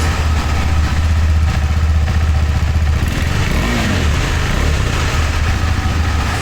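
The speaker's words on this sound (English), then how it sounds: "So this is how the bike sounds. It is massive, it is thundering" A 2024 KTM 390 Adventure X motorcycle engine idles loudly up close, a deep, thundering rumble with a steady throbbing pulse and light mechanical clatter.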